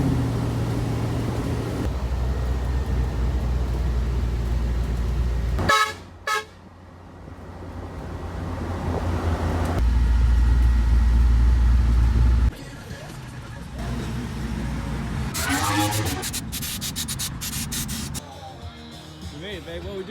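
A van hauling Grom motorbikes drives along with steady road and engine rumble, a horn toot partway through and shifting traffic noise.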